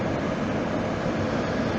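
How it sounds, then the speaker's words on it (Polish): A Pesa Elf 2 electric multiple-unit train on a Silesian line gives off a steady broadband rumble and hum, loud and continuous, with no voices. "To jest pociąg o nazwie Elf"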